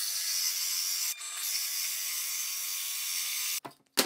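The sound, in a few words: drill press cutting wood with a 4-inch hole saw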